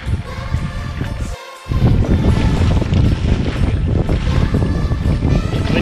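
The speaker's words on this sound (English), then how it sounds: "It's windy, but it's all very comfy and warm, toasty, dry" Strong wind buffets the microphone on a sea kayak off Kangaroo Island, loud and continuous roaring gusts after a brief quieter moment near the start.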